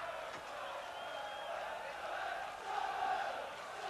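Distant football crowd at Port Vale v Sunderland, a 1987/88 Third Division match, as visiting fans behind the goal react to a free kick, a steady roar that swells louder near the end.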